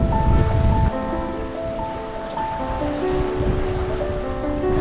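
Sea water rushing past a sailboat crossing the Atlantic under peaceful sail, a loud continuous wash of waves with low rumble and steady hiss, some tonal hum running underneath.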